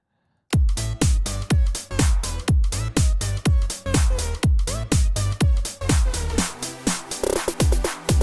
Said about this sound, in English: I'm just writing a little snare drum fill here.